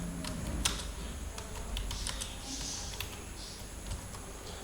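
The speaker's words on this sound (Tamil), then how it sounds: "திரும்ப அந்த லைனை வந்து டைப் பண்ணுறேன்" Someone types a line of Python code on a computer keyboard: a steady stream of light, close key clicks over a constant background hiss.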